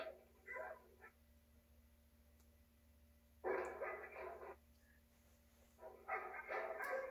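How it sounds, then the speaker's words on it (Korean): Dogs bark in the distance in a few scattered bursts, fairly faint, over a steady low hum in an otherwise quiet night setting, from the 1954 film Senso. "개들이 한밤중에 막 그냥 짖기 시작합니다."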